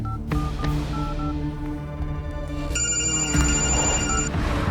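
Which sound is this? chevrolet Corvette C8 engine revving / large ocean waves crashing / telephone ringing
telephone ringing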